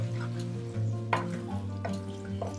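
Chicken and kachnar buds are stirred in a pan with no added water, producing a soft sizzle broken by several scraping strokes of a spoon against the pan.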